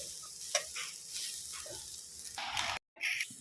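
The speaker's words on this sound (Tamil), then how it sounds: "ஒரு 2 நிமிஷம் அப்படியே சிம்மில் வச்சு நல்லா கிளறி எடுத்துக்கோங்க." Idiyappam upma is stirred in a pan over low heat, a soft continuous sizzle with scraping stirs, close, ending in a brief silence then a final burst.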